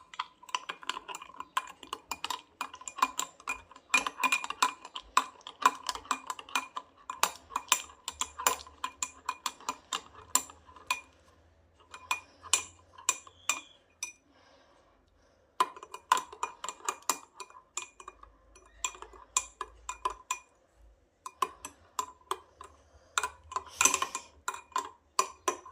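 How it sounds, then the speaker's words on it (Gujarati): A spoon stirs Vietnamese coffee in a cup, making quick, irregular metallic clinks and ticks in dense bursts with a few short pauses. "અત્યારે આપણે હવે આને હલાવીશું ચમચી વડે"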